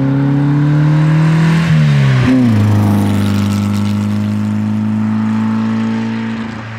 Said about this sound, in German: Porsche Speedster von 1957. Das Auto geht ja wirklich wie verrückt.